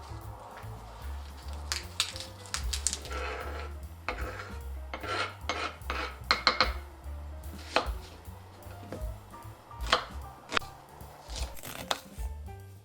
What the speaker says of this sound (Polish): Potem obieram i kroję cebulę w kostkę.